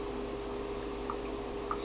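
Water pours steadily into a glass jar while kombucha is being made, a continuous close rushing flow with a few faint drips and splashes on top.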